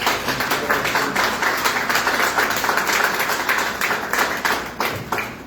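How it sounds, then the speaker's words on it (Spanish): A church congregation gives a warm round of applause for Ramón, steady dense clapping close by, lasting the whole stretch without speech. "¿Cuánto le da un aplauso al querido Ramón?"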